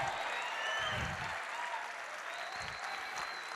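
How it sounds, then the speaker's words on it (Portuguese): Applause from a church congregation, steady clapping that fills the space for a few seconds at moderate loudness, with faint low rumbles underneath. "dê uma salva de palmas para o Senhor"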